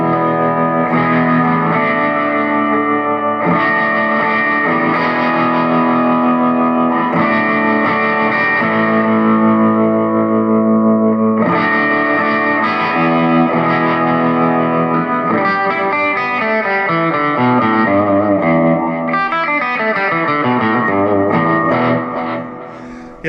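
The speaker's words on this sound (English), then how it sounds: "This is called Choppy Deluxe. So this is just your deluxe reverb." Electric guitar through a Fender Mustang LT25 amp's Deluxe Reverb model, clean warm tone, strummed chords ringing out and then a run of picked notes, steady and loud with no talking.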